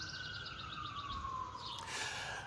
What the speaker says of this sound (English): We'll let the sirens pass here.